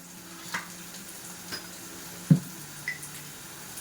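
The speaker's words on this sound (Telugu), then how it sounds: "ఆనియన్స్ బాగా వేగాలంటే అందరికీ తెలిసిన టిప్పే కాస్త సాల్ట్ యాడ్ చేసుకోవాలి" Onions frying in a pan with a pinch of salt for a mutton liver fry give off a faint, steady sizzle, with a few soft stirring knocks and clinks scattered through it.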